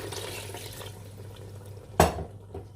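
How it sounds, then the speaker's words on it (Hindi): Water goes into a pot of mutton cooking in spiced yogurt for biryani, giving a soft, steady sloshing and stirring close by, with one sharp clink of a utensil against the pot. "अब मैं इसमें 1 से 2 गिलास पानी ऐड करूँगी"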